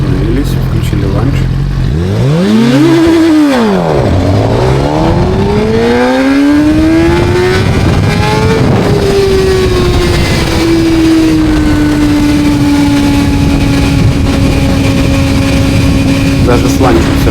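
A Suzuki GSX-R 1000R sportbike doing a launch-control start, its engine held at high revs and then roaring loud and close as it pulls away, the pitch climbing through the gears and then fading to a steady whine.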